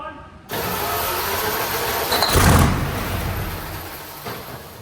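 A Centurion ARV tank engine cranks on its starter during fault finding, a loud, sustained mechanical churn that kicks in abruptly and swells briefly midway before settling, with faint voices in the background.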